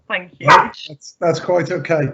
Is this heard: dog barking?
yes